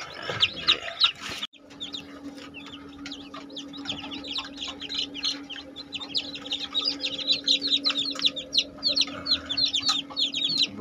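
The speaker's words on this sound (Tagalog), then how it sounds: "bali yan po yung lahat na sisiw na ipinasalang niya" Newly hatched chicks in a homemade hatchery keep up a dense chorus of high, rapid peeping over a low steady hum, with a brief knock near the start.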